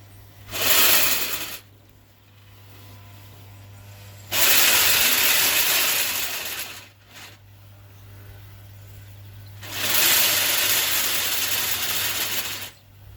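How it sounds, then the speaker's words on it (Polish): An electric motor driving an automatic screening sieve whirs in three loud bursts separated by quieter stretches as its voltage is adjusted, with a steady low hum running underneath throughout. "Silnik jest już włączony, teraz będę regulował napięcie."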